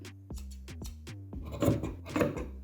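Scissors cutting through clothing fabric while remaking a two-piece outfit, a series of close, crisp snips in a steady rhythm followed by rougher rasping cuts.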